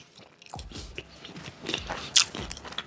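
Biting and chewing a crunchy, well-done Jet's pizza crust: repeated close, crisp crunches and mouth sounds building in loudness, with one sharp loud bite near the end.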